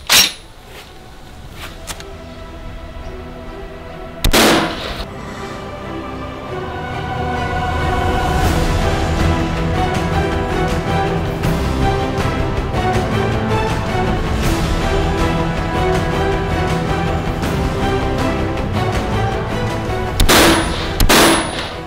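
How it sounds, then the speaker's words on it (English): A shotgun fires heavy projectiles at bulletproof glass on an outdoor range: sharp loud blasts open and close the stretch, with a further crack in between, over a continuous rumbling clatter and background noise, with no voices. "In a moment we'll see the effect of these shotgun projectiles, which are sometimes also used during hunting."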